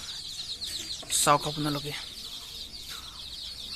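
Small chickens on a small farm cluck in the rain. A brief burst of close clucking stands out over a steady high hiss, and a person speaks briefly.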